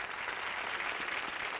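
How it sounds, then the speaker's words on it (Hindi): A studio audience claps steadily in a dense, even burst of applause welcoming four poets onto the stage of a Hindi comedy show, loud and close, with no pauses. "तो जोरदार महंगाई वाली ताली बजाइए इन 4 महंगे कवियों के लिए।"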